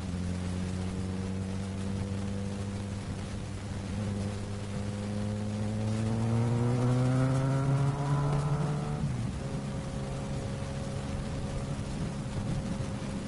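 A Suzuki GSX-S1000 motorcycle engine is heard on a road, loud and steady, rising in pitch through the gears before easing back to a lower drone near the end.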